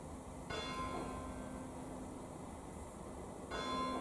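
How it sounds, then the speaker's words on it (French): A bell ringing inside a manor house, heard as a faint, sustained ringing tone that starts and later stops over a steady background hiss, with no voices. "c'est la première fois que j'entends une cloche ici"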